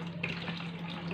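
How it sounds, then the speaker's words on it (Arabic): Hot water, about a litre and a half, pours steadily into a cleaning mixture for tile polishing, a brief soft trickle and splash heard alone at low level. "بعدها نزيدو لهم لتر ونص من الماء الساخن"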